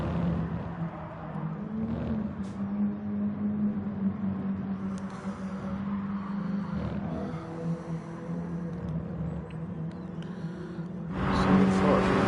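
A Mini Cooper Enduro race car engine drones steadily in a racing video game, a sustained mid-low tone with gear-change shifts and a louder burst near the end, while a commentator talks over it.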